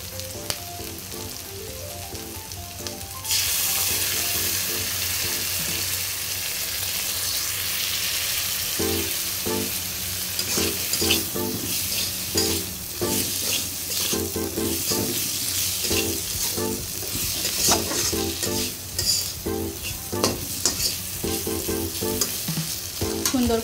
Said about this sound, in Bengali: সুন্দর করে নেড়ে চেড়ে নিয়েছি।